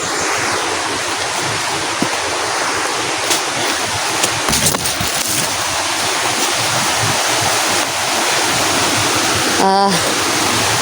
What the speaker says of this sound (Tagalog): So may malakas na agos ng tubig.